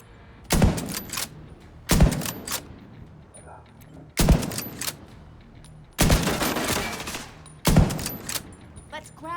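Rapid automatic gunfire in a first-person shooter video game, heard as five loud, separate bursts spaced a second or two apart, each tailing off with a short rumbling echo. No one speaks over the shots.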